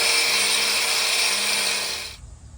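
A power drill bores pilot holes in an aluminum boat trailer, a loud, steady high-pitched whine that holds for about two seconds and then winds down and stops.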